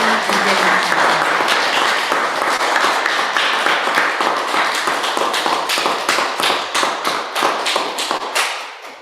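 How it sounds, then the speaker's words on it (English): A live audience gives a big round of applause to three guest speakers at an evening event, dense loud clapping that continues for several seconds and then thins into scattered individual claps as it dies away. "so big round of applause, everybody, for Victoria Kennefick, Gabeba Baderoon"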